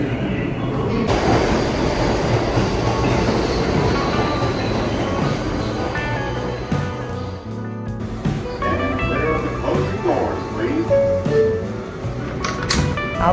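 A New York City subway train runs loudly and steadily, its rumble and clatter carrying throughout, with brief squeals from the wheels and a momentary dip before the roar resumes.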